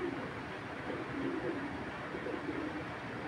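Soft, steady cooing of a red checker racing pigeon, a medium-sized local hen, running as low continuous murmurs close by, with no talk over it.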